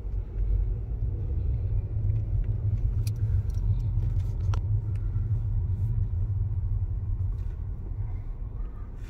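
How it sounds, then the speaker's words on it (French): Steady low road rumble of cars and trams passing along a Brussels street in the Matonge district, continuous and fairly loud, with faint clinks and light metallic sounds above the traffic drone. "Les voitures passent, les trams aussi passent."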